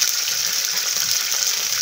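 Water bubbles rapidly in a hot kadai, a steady, close, hissing rush of boiling with no voices.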